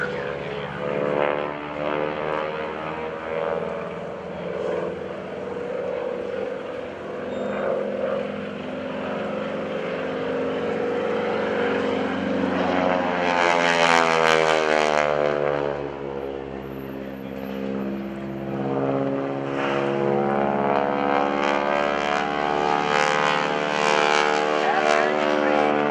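A propeller airplane built in 1943 flies at the 2012 NAS Oceana airshow. Its engine drones far off at first, then swells as it passes close, with a falling pitch sweep, and fades away again. Voices are faintly present.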